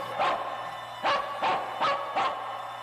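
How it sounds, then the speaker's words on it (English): A cartoon dog barks five times in quick, evenly spaced bursts, moderately loud and close, with no talking over it. "I know that bark anywhere."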